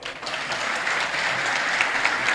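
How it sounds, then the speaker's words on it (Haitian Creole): Crowd applause for Issa Pavel at a political gathering, steady dense clapping lasting a couple of seconds, moderately distant and even. "battons bravo pour Issa Pavel"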